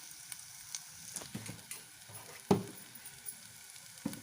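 Chilli powder and spices with ginger-garlic paste fry quietly in a pan, a soft low sizzle with occasional sharper spatters and stirring clicks, no voices.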